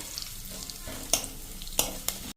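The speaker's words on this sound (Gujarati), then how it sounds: "હવે આને આપણે સેજ કાજુ આપણા સરસ કૂક થઈ જાય બ્રાઉન જેવા, લાઇટ બ્રાઉન, ત્યાં સુધી આપણે આને મિક્સ કરી લેશું।" Cashews and raisins fry in a pan while a spoon mixes them, a gentle steady sizzle broken by a few sharp clinks of the spoon against the metal.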